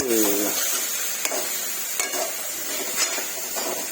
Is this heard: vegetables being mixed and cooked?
yes